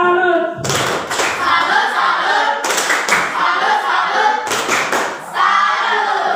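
A classroom of students performs a rhythmic salute clap in a school lesson, three loud bursts of patterned clapping separated by short gaps, with a voice briefly heard before the first burst.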